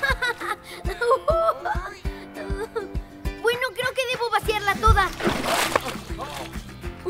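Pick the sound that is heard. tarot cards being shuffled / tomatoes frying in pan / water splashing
water splashing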